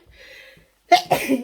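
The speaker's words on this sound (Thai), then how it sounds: "จามอีกแล้ว" A single person's sneeze, sharp and close, bursting out after a quiet stretch with faint background tones, followed by a short breathy tail.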